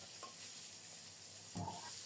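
Hilsa fish pieces fry in a pan over a lowered flame, producing a quiet, continuous sizzle with a brief louder stir or scrape near the end and no voices.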